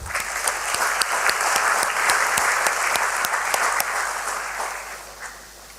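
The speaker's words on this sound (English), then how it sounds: "please join me in welcoming on stage with a very warm round of applause" Warm applause at a stock exchange listing ceremony as the BSE chief executive walks on stage, dense clapping with a few sharp claps standing out, thinning toward the end.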